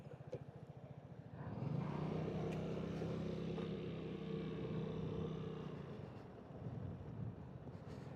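A small Vespa scooter being ridden: a steady engine drone rises as it gets going and holds at a constant pitch, with wind rushing across the microphone throughout.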